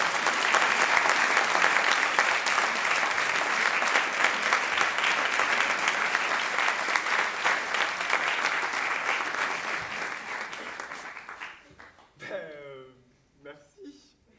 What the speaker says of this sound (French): Les gens applaudissent.